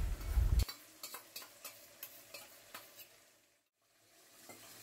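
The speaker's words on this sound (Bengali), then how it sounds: "আবারও ভালো করে নাড়াচাড়া করে নিতে হবে।" Mustard hilsa in a wok stirred with beaten sour yogurt: a brief sizzle, then a steady series of spatula scrapes and taps at an even rhythm, then a short quiet stretch and one more faint scrape.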